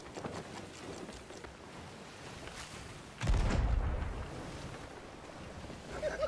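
A single cannon blast booms out in the Sea of Thieves pirate game as a player fires on their own ship, a sudden loud low thud midway that rumbles on over steady ocean waves and wind.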